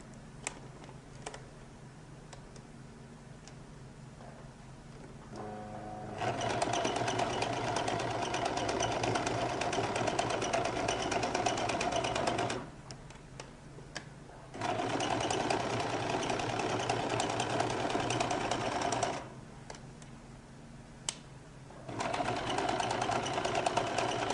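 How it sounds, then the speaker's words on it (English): Sewing machine running gather stitches on a lady's jacket, three long bursts of rapid stitching separated by quiet pauses, close and clear. "So I'm going to start by running a few gather stitches."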